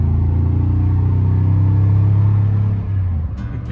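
A Toyota Tundra pickup truck's exhaust rumbles with a deep, steady, loud idle-to-rev tone close by, then drops slightly and fades near the end, with no talking.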